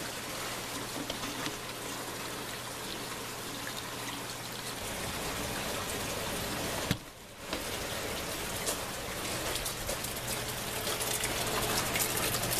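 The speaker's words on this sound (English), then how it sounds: "And here you can see the water moving in this." Water flushes through horizontal aquaponics grow tubes with a steady trickling, splashing rush, close and continuous, with a low hum that stops partway and a brief dip near the middle.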